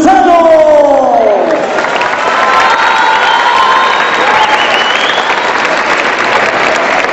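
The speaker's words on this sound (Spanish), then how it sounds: "Tercer lugar, el estilo veracruzano recibe su premio y a la vez el reconocimiento y el aplauso de todo el público." A full audience applauds and cheers for third-place prize winners, a couple dancing in the Veracruz style, with dense sustained clapping, a few high shouts and whoops near the start, and a loud, steady crowd roar throughout.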